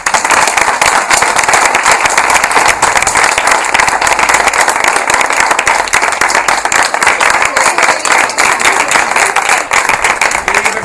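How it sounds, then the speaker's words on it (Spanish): Loud, sustained applause from an audience at an outdoor theatrical route performance in Los Alcázares, dense clapping that rolls on steadily for the whole stretch without a break. "para la que pido un fortísimo aplauso"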